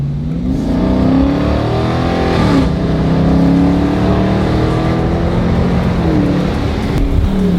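A 2022 Dodge Jailbreak muscle car engine rumbles loud and close with a steady, rising rev, deep and continuous for several seconds with no talk over it.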